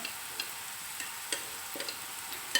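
Onion fries in a pan with a soft, steady sizzle, punctuated by a few faint scraping clicks as it is stirred, with no voices.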